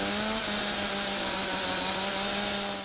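Chainsaw cutting down a tree in a Congolese forest, a loud sustained high-pitched engine whine held steady throughout and easing off slightly at the end, with no talking.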